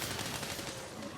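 Rapid, dense gunfire in Monster Hunter World crackles without pause, a loud continuous barrage of overlapping shots.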